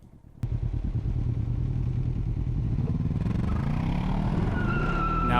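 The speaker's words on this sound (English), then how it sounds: "showing me how to do some burnouts over here" A Can-Am Ryker three-wheeler does a tire burnout at night, its engine suddenly revving into a loud, sustained roar with rising pitch and a squealing, skidding tire building toward the end.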